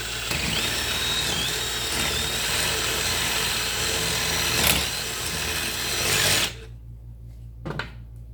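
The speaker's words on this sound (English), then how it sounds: "take a 1/2-inch drill bit and just lightly ream this hole out" A drill with a 1/2-inch bit lightly reams out a bracket bolt hole, giving a steady close whirring grind for about six seconds that stops abruptly, followed by a brief clatter.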